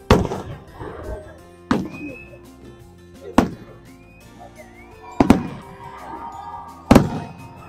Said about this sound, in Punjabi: ਦੇਖ ਸਕਦੇ ਹੋ ਕਿਵੇਂ ਪਟਾਕੇ ਚੱਲ ਰਹੇ ਨੇ